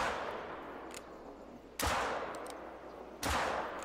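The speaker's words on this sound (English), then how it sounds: "Let me just go ahead and fire up my old six shooter." Six-shooter revolver fired in the video game theHunter: Call of the Wild, two sharp, loud shots about a second and a half apart, each ringing out with a long echoing tail over quiet outdoor ambience.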